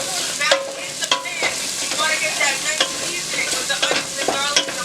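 Carrots tipped into a pan of sweated onions and garlic for tomato sauce sizzle steadily, with repeated scraping stirs of a utensil against the pan, close up and without talking.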